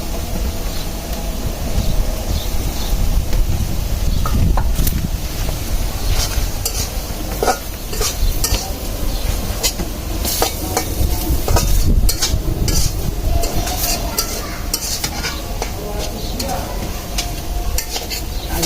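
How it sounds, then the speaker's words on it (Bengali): Crushed onion and garlic sizzle loudly in hot oil in a pan of mixed leafy greens, with steady frying crackle and intermittent stirring scrapes and clinks throughout. "এখন দিয়ে দিচ্ছি পেঁয়াজ রসুন,"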